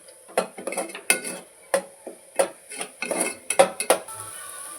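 Metal spoon scraping and clinking against a pan while masala for meal maker gravy is sautéed, giving a steady run of close, sharp stirring knocks with short pauses between.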